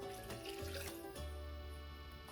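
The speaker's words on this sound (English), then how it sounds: "rinse the jar, of course" Water runs from a kitchen tap into a pint-size glass canning jar being rinsed out, a steady close rushing with shifting tones as the jar fills, no voices.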